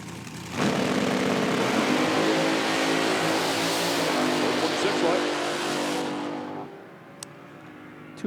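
A supercharged blower drag racing car at an IHRA Outlaw Nitro Series Pro AM event in Dinwiddie, Virginia, launches with a sudden loud roar and holds a steady full-throttle howl for several seconds before fading away, with an announcer talking over it.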